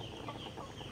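Chickens cluck faintly in a short, muffled burst from farm poultry, set against a dense, noisy background.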